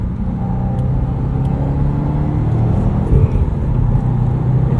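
A 2018 Subaru WRX STI's engine and exhaust rumble steadily from inside the car while driving, a loud continuous low drone with a slight swell in revs near the end.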